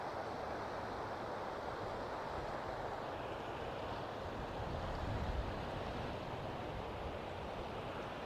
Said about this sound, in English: You might be picking up or hearing a lot of wind noise in the audio too right now